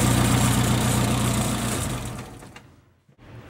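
A 1.3L Suzuki Samurai engine runs at a steady, loud idle, then winds down and cuts out near the end, followed by a brief thump and quiet hum.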